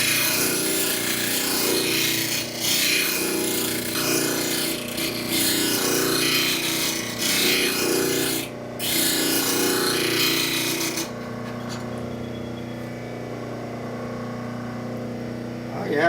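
Spokeshave blade being sharpened with steady, rhythmic rasping strokes, close and loud for most of the span, then a quieter, duller tone near the end.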